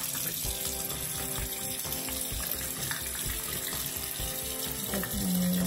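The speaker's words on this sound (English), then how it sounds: "I'm gonna wet my face a little bit again." Water runs steadily from a tap into a sink, used for wetting the face, a continuous close splashing rush with faint tonal background sounds and no talk.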